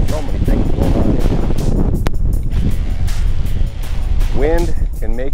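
Wind gusts buffet the microphone on a fishing boat on Lake Sakakawea, giving a loud, constant roar with low rumbling and water noise, while someone talks briefly toward the end.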